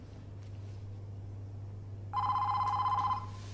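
A telephone bell begins ringing partway through, a bright trilling burst of about a second over a low steady background hum, with no voices.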